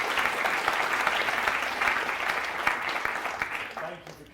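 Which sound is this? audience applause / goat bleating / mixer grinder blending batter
audience applause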